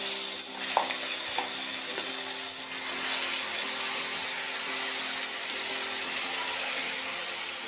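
Ground chutney stirred into a sizzling tempering with curry leaves over a low flame, a gentle steady frying hiss with a few spoon taps against the pan early on, heard up close without speech.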